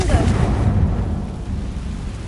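A Confringo spell fired in Hogwarts Legacy lands as a heavy, rumbling blast, a deep boom that rolls on and fades slowly across the short moment.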